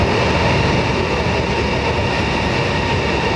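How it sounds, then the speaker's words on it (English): A loud, steady rumbling roar of a Chinese CR high-speed bullet train arriving close by, with a constant rushing noise and no break throughout. "That's the first train arriving."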